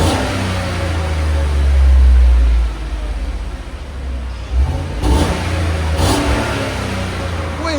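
A 2015 GMC Sierra SLT with a 5.3L V8 and Borla Touring exhaust revs up to a loud, deep roar, then settles back toward a steady rumble with a couple of smaller blips.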